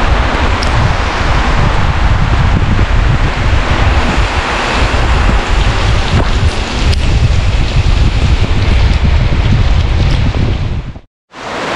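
Heavy rain and gusting wind roar loudly and continuously around a gravel bike ridden at night, with strong wind buffeting on the microphone until a sudden brief dropout near the end.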